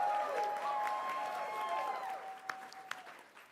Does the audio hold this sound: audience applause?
yes